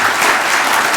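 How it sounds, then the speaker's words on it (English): A brief, loud burst of audience applause, thick and continuous clapping filling the moment. "we gave you a very big applause"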